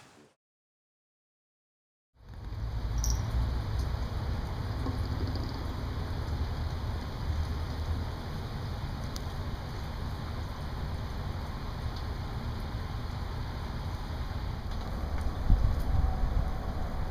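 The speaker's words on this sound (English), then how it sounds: "It's raining out here." Heavy rain falls outdoors after a couple of seconds of silence, a dense, steady hiss and patter that stays loud and unbroken to the end, with no voices.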